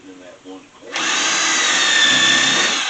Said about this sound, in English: Drill me a countersink.